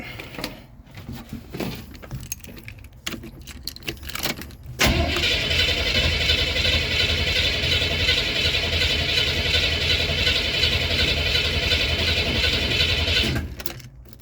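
A Chevrolet Camaro engine cranks but fails to start, with some uneven mechanical noise first, then a loud, steady cranking drone lasting about eight seconds before cutting off.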